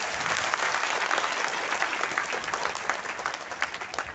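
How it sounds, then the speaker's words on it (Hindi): Steady, full crowd applause welcoming guests at an ashram gathering, continuous and even throughout, with no voices rising above it. "जोरदार तालियों से इनका स्वागत किया जाए"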